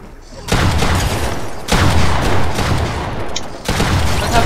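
Loud, dense bursts of video game gunfire in three sustained volleys separated by brief breaks, close and overwhelming.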